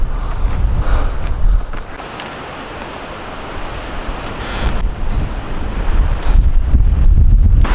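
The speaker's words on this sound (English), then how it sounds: "It's freaking windy," Strong gusts buffet the microphone on a mountain trail climbing into the cloud layer on San Jacinto, a loud roaring rush that dips briefly, then swells again and builds toward the end.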